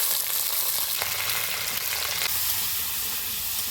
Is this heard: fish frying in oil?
yes